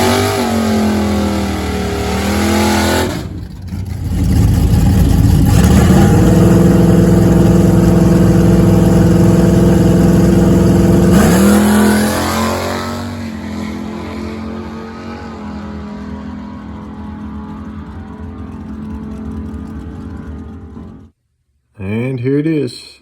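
A Barracuda drag car's engine roars loudly through a hot-lapped final pass of a test-and-tune day, a sustained high-revving drone that shifts pitch mid-run, then tails off before a brief cut to silence and a short final burst.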